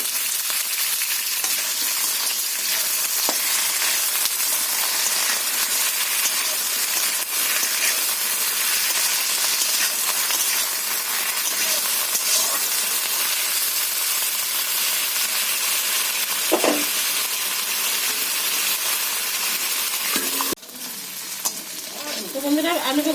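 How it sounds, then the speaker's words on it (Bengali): Potato and eggplant fry in oil in a wok, giving a loud, continuous hiss and sizzle close by, with occasional stirring knocks and a brief dip near the end. "এখন আলু বেগুনটা আমি ভেজে নেব।"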